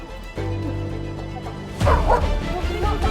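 A dog barks, a few loud close yips and woofs in the second half after a steady background hum, with no voices.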